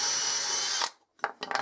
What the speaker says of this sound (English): just drill through that one if you've got it in the right position